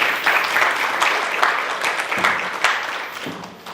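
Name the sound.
audience round of applause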